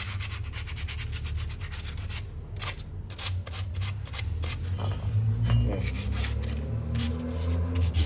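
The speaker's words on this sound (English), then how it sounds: "So there we go, sanding away." Aggressive sandpaper scrapes steadily against a rusty brake caliper from a 2004 Toyota Matrix, a continuous gritty rasping with repeated back-and-forth strokes over a low background hum, close up and with no talking.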